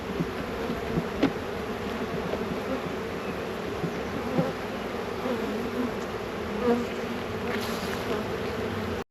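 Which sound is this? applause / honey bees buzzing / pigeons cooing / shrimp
honey bees buzzing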